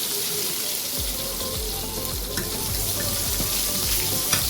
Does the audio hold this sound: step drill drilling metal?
no